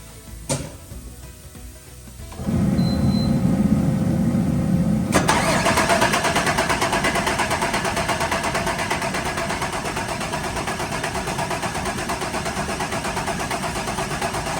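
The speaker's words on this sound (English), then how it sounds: "So I'm gonna crank it over and see if any of them leak." A car engine with freshly reinstalled injectors cranks with a whirring starter for a few seconds, then catches and settles into a loud, steady idle that runs on alone.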